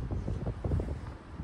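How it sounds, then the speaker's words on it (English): Strong wind after a storm under a cloudy sky, gusting and buffeting close to the microphone in a loud, uneven rumble with no talk. "And we're still having these windy conditions."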